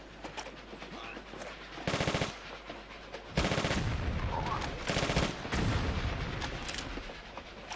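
Gunfire in the video game Tomb Raider: The Last Revelation comes in several loud, dense bursts of rapid shots separated by quieter game ambience.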